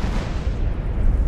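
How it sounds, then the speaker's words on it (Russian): Dense, rumbling booms in GTA San Andreas blur together into a continuous low roar of explosions, fairly loud and unbroken. "черный дым, миллион взрывов"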